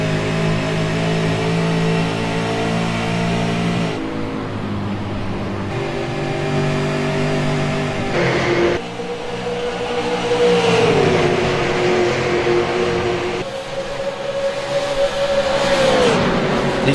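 Race cars roar around a short track, engines revving hard and shifting pitch as they pass, a loud continuous snarl with rising and falling whines.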